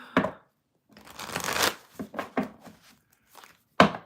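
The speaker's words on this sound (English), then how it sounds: "I'm going to shuffle" Tarot cards being shuffled close up in short riffling bursts, with brief pauses and a sharp final tap or snap at the end.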